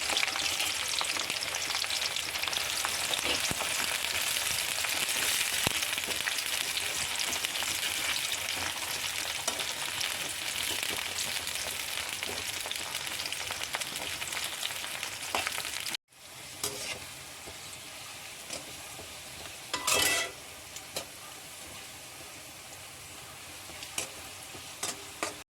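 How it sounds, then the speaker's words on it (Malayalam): Washed, chopped okra (vendakka) frying in hot oil in a home kitchen, giving a steady, dense sizzle that drops off abruptly partway through, then resumes quieter with a few brief crackling bursts; no one speaks. "അപ്പോൾ നമ്മുടെ വെണ്ടയ്ക്ക ഫ്രൈ ആയിട്ടുണ്ട്."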